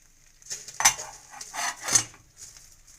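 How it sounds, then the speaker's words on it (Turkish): Metal utensils clink and scrape against a pan of chopped tomatoes in a few short bursts, with a faint sizzle underneath and no talking. "Domateslerimizi doğradık. Pişiriyoruz."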